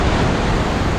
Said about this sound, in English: this fucking waterfall